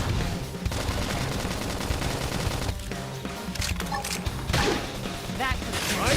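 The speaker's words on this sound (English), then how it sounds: "Flame grenade." Dense, loud combat effects from the Xenoblade Chronicles X video game as a flame grenade attack lands, rapid fire-like bursts and mechanical clatter layered over game music, with a voice briefly calling out.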